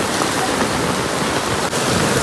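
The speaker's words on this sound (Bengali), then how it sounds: "কি পরিমাণে বৃষ্টি হচ্ছে" Heavy rain pours down in a dense, loud, unbroken hiss, close by and steady throughout, with no voices.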